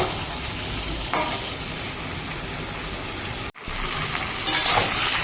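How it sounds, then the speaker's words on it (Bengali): Fried potatoes go into a meat curry sizzling in a pan, a steady close frying hiss with stirring scrapes, one abrupt momentary drop near the middle, then louder clattering stirs toward the end. "এবার আমি এখানে ভেজে রাখা আলুটা মাংসতে দিয়ে দেবো"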